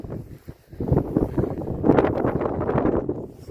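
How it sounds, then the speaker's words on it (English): Gusty wind buffets a Vango Hydra 200 tent pitched in wet, windy weather, with rough bursts of roaring flapping that rise and fall and strengthen midway. "The wind's picking up, as you can hear"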